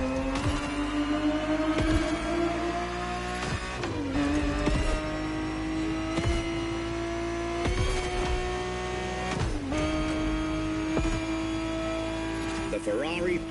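A Ferrari 365 GTB4 engine in The Crew Motorfest racing game holds a loud, steady drone that climbs in pitch and then drops back at several gear shifts, with brief clicks and thuds marking each change.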